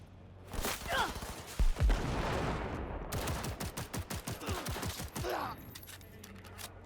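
Rapid bursts of video game gunfire, several sharp shots in quick succession with a steady rattle of firing through the middle, loud and close with some background game noise.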